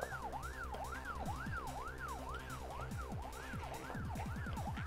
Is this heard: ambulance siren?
yes